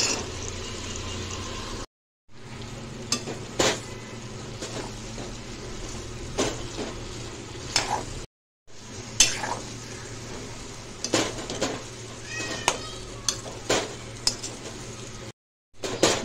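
Okra tipped into a pan of oil with tomato, garlic, curry leaves and green chilli, then stirred with a clattering metal spoon against the pan, scraping and knocking steadily close by, with brief silent gaps.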